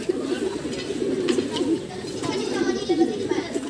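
Pigeons coo steadily in a loft, a continuous layered murmur of soft throaty calls close by, with people talking over them.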